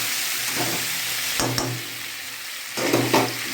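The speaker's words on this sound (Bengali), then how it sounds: "দিয়ে দেবো আমি টমেটো, কাঁচা লঙ্কা, চিংড়ি মাছগুলোকে দিয়ে দিলাম। এবার এটাকে সামান্য একটু নেড়ে চেড়ে" Tomato, green chilli and shrimp fry in a pan under a constant bright sizzle, with a few short scraping bursts as they are stirred.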